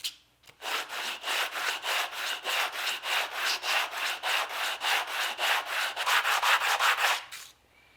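Wooden halves of a puukko knife sheath are sanded lightly by hand, a steady run of about twenty rhythmic back-and-forth rubbing strokes, close and clear, with no talking.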